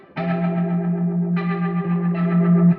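A Strymon Lex rotary speaker pedal on an electric guitar, sustained chords swirling with organ-like rotating-speaker warble, two chord attacks ringing on, loud and close with no talking.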